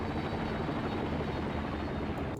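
Helicopters in the video game Act of Aggression, a steady whirring rotor drone that holds at an even, moderate level without a break.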